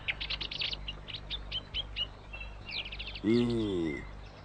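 Sparrows chirp in an Indonesian-dubbed episode of the animated series Kung Fu Boy, with a quick run of bright, repeated tweets followed by a brief sustained call.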